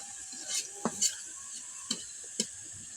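Onions frying in a pan are stirred slowly, giving a steady soft sizzle broken by a few sharp scrapes and knocks of the utensil against the pan.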